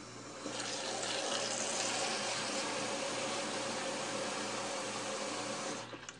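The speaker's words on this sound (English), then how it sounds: "as I rinse out the container" Tap water runs steadily into a container being rinsed of blueberry juice in a kitchen, a continuous close splashing hiss lasting several seconds before cutting off.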